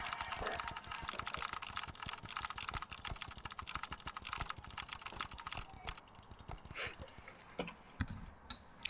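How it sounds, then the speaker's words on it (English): Rapid, dense clatter of a loud computer keyboard being typed on nonstop at close range, then thinning into a few scattered keystrokes, with a faint voice, during a Phasmophobia ghost-hunting game session. "Also, I'm sorry if you guys might hear my keyboard."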